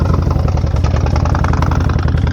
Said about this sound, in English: fill her up and make her roar